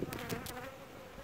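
Honeybees buzz at a hive entrance fitted with a new anti-hornet guard, a close, steady droning hum with brief louder passes, no talking.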